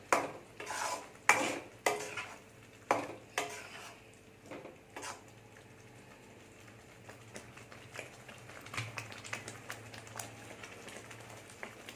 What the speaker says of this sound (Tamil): உப்பு நல்லா கலக்கிற மாதிரி கிளறி விட்டுக்கோங்க.